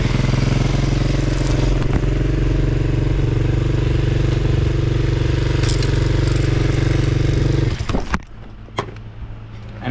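A motorcycle engine that smokes badly idles loud and steady up close, with a few sharp revs, then cuts out abruptly near the end, leaving brief clatter.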